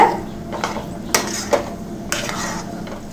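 Rice flour dough for uppu urundai is stirred and sautéed in a pan, with a soft, steady scraping underlaid by a few sharp utensil knocks against the metal, close and moderately quiet.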